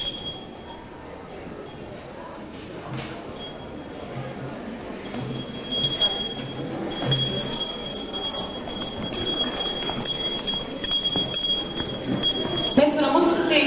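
A school bell rings at a September 1st celebration, bright metallic tones sounding over a crowd murmur, moderately loud and ending abruptly near the close.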